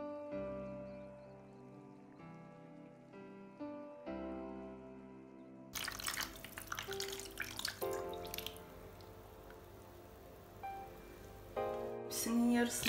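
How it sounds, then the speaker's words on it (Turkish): Hot water poured from a container into a baking tray of minced-meat stuffed peppers, a splashing, gurgling pour that starts partway through after quieter kitchen sounds and continues close up. "Hepsinin yarısına gelecek şekilde sıcak su koyuyorum."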